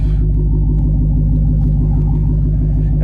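A 2023 Dodge Challenger Hellcat Redeye Jailbreak V8 idles with a deep, heavy, loping rumble, close and loud and steady throughout, with no voices.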